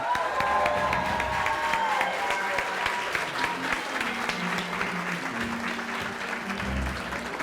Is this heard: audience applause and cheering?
yes